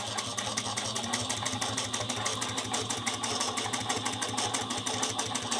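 Juki 1541S industrial sewing machine running steadily while top stitching a bag, a rapid, even mechanical chatter with a low motor hum and continuous rhythmic needle strokes, close and alone.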